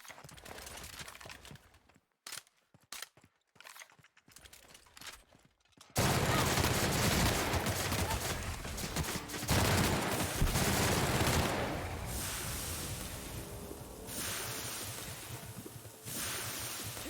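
Gunfire in The Outer Worlds video game starts as several short, sharp bursts, then becomes a loud, continuous roar of rapid shots that keeps going to the end.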